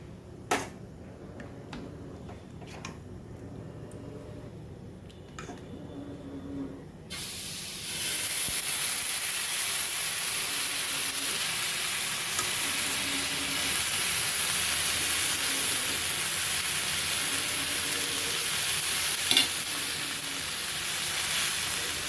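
Paneer, rava and mixed-vegetable chilla batter fries in ghee on a hot pan, giving a steady, close sizzling hiss that swells after a quieter start and holds evenly to the end.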